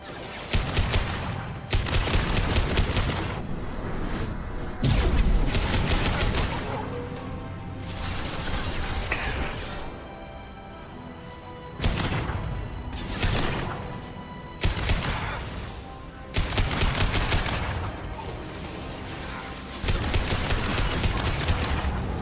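Gunfire in the video game Mass Effect 2 comes in loud, rapid bursts of automatic fire broken by short quieter gaps, with mechanical clanks and crashes mixed in.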